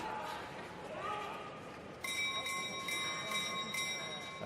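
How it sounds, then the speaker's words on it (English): A ringing bell marks the final lap at a speed skating World Cup race in Milwaukee, sustained metallic tones entering sharply midway and repeating in steady strokes over arena crowd noise and a commentator's voice. "So coming up on the bell lap now for both Hall and Tass."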